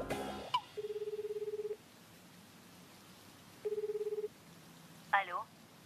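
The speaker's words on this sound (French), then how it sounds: "Vous voulez que je compose le numéro pour vous?" Telephone keypad tones ring out as a number is dialed in an anime episode. Two clear runs of rapid, evenly spaced beeps are separated by a pause, followed by a short warbling electronic chirp over a quiet background.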